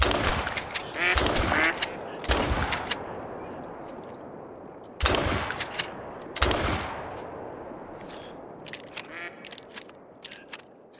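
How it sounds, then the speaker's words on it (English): Goldeneye ducks call in theHunter: Call of the Wild while a hip-fired shotgun booms several times, loud blasts followed by decaying echoes, with scattered quacks and wingbeat-like chatter between shots. "I got some more golden eyes coming in."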